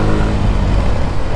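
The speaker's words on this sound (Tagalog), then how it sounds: "Tapos yung makina, ayun, no?" A motorcycle engine revs close and loud in one continuous, rough, throaty drone.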